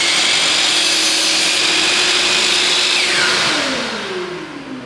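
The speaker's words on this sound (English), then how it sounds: "now I feel that I'm ready to cut the wood." A sliding compound miter saw runs at full, loud whine while cutting wood, then its pitch falls away as the blade spins down near the end, close and with no voices.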